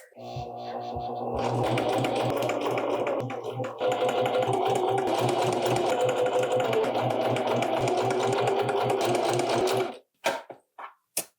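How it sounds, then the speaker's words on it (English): A sewing machine stitches a pant leg seam with a half-inch seam allowance, its motor whirring loud and close in one long steady run with a brief hitch, then stopping with a few short taps at the end. "We're ready to just stitch this together with our 1/2 inch seam allowance."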